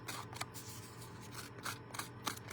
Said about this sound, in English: I'm just gonna take my scissors and I'm gonna rough this up a little bit